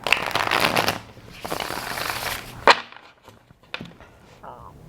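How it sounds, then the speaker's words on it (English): Tarot cards shuffled by hand in a riffling, fluttering burst lasting a couple of seconds, followed by a short pause and a few sharp card snaps and taps. "I'm gonna get one more shuffle"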